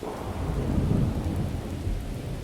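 Steady rain with low rumbling thunder in the survival game Miscreated, a dense continuous wash of rainfall over a deep rolling rumble, fairly loud and unbroken with no talk.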